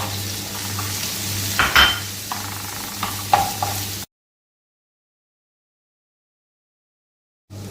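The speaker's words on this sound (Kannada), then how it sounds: "ಇವಾಗ ನಾನು ಗೋಡಂಬಿ ಮತ್ತು ದ್ರಾಕ್ಷಿಯನ್ನು ಸಹ ಸೇರಿಸಿ ಸ್ವಲ್ಪ ಹೊತ್ತು ಫ್ರೈ ಮಾಡ್ತೇನೆ" Cashews and raisins frying in a pan with onion, with stirring scrapes and light clinks of a utensil over a steady close sizzle, ending abruptly in silence.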